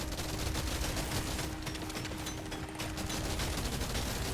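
Continuous rapid weapon gunfire in the Deep Rock Galactic: Survivor video game, a dense and steady rattle of shots with no pauses for the whole stretch.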